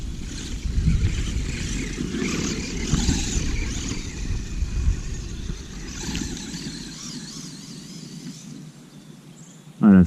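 A small FTX Zorro radio-controlled car running on a 2S battery at an outdoor spot, its electric motor whining and buzzing steadily over about ten seconds with varying revs, fairly close, ending in a brief loud knock.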